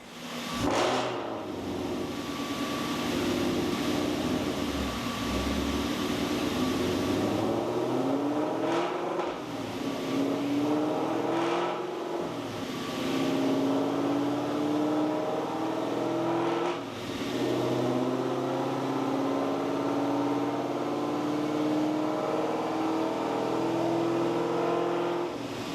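A 2021 Ford Mustang Mach 1 with a Whipple supercharger roars on a dyno, its engine climbing steadily in pitch through a long, loud pull with supercharger whine, then settling briefly before revving up again.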